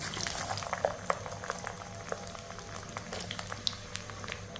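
Pirandai (adamant creeper) stems frying in hot sesame oil give a steady bubbling sizzle scattered with small crackling pops, close and moderately loud.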